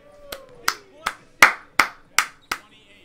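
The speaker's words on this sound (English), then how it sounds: "I gotta clap it up for my boy." At a pickup basketball game, a person gives seven sharp, evenly spaced hand claps close by, with a faint voice briefly in the background.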